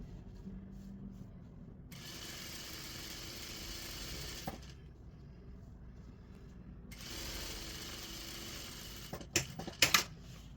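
A sewing machine stitches a folded dress hem in two long, steady whirring runs with a short pause between, followed by a few sharp clicks.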